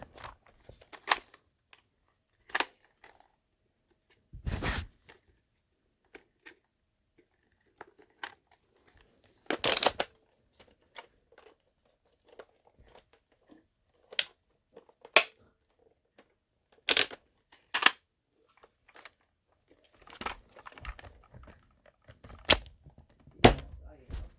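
A Nerf Rival Roundhouse blaster fires in sharp, snappy bursts of two shots, scattered irregularly with quiet gaps and small handling clicks between volleys.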